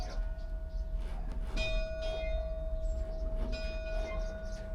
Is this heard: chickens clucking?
no